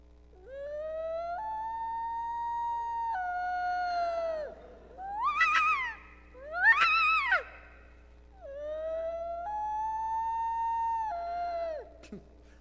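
A person imitates a loon's call: long, rising and held wailing tones, two brief yodel-like bursts in the middle, then another long wail, close and clear.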